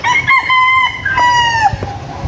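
A loud, close rooster crows with a long, wavering call while hens cluck in short bursts around it.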